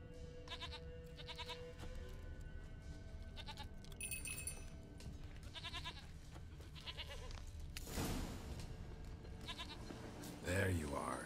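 A goat bleats several times in a rustic Witcher 3 game setting, with repeated short nasal calls over a steady ambient bed, and a speaking voice joins in partway through.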